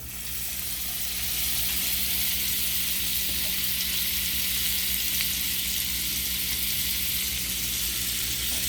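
Butter sizzles in a hot, smoking pan while meatballs are being cooked, a loud, steady crackling hiss that starts slightly softer and holds level throughout, close up with no talking.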